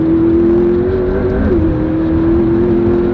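McLaren P1 hypercar launching and accelerating, a loud, steady engine drone with a rising whine that wavers midway, close and continuous throughout.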